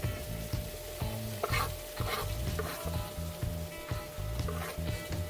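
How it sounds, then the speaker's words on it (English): Spinach sizzling and crackling in a hot frying pan while being stirred, with steady frying hiss and intermittent scraping, close up. "basically all we're doing is doing a simple sauteed spinach"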